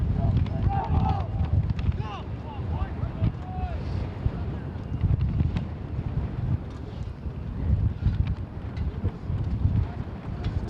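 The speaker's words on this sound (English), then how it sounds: "It's a bit chilly as well as windy" Gusty wind buffets the microphone over an outdoor soccer field on a chilly day, a continuous low rumbling roar that swells and eases beneath a commentator's steady talk.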